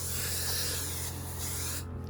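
Cleaning solution hisses from a sprayer held low over glue residue on office carpet, a steady close hiss that cuts off abruptly near the end.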